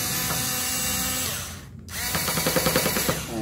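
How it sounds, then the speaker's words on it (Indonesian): A power drill whines steadily while drilling into an IKEA whiteboard during assembly, cuts out briefly, then spins up again with a pulsing, stuttering rhythm as it bites in. Close and loud. "Langsung aja kita bor."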